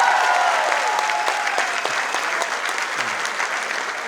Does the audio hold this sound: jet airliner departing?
no